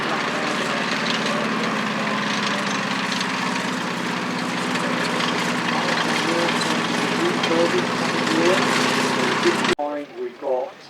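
M4 Sherman tank fitted with a gas-gun blank firer at a WWII tracked vehicles display, its heavy engine idling in a steady low rumble for most of the stretch before cutting to quieter background with voices nearby.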